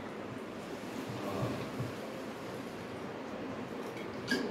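Water pours into a cooking pot of cauliflower being readied for boiling, a steady close rushing splash that continues evenly for several seconds without any speech.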